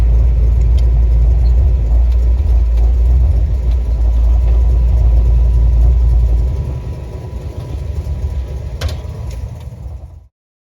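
A 1965 Ford Falcon vintage car's engine rumbles loudly and steadily up close at a drive-in theater, then drops to a softer idle partway through before cutting off near the end.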